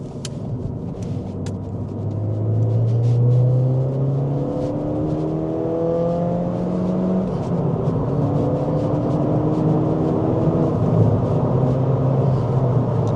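A Ford Fiesta ST in sport mode accelerates hard from inside the cabin. The engine drones and climbs through several gears, with rising pitch sweeps and brief drops at each shift, loud and close with road rumble beneath.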